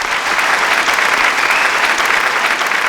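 A large audience at a talk in Tiruchirappalli applauds, a loud, continuous wall of clapping held steady for several seconds with no voices on top.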